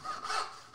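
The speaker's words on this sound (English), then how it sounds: "you just wait till your saw drops into that kerf and you finish your cut." A hand saw cutting a dovetail in wood, a single close, brief rasping stroke of the blade through the kerf, alone with no talk.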